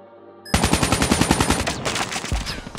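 Rapid automatic gunfire bursts in Call of Duty Mobile, a dense loud rattle of shots beginning abruptly after a brief quiet moment and continuing with slight variation to the end.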